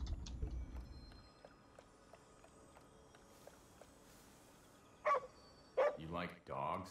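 A dog barks in the video game Ghostwire Tokyo, a few short yips and barks near the end over a quiet ambient game bed, with a voice briefly heard alongside.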